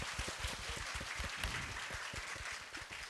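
An audience applauds steadily at a Japanese entertainment event, a sustained wash of clapping at moderate, fairly distant level.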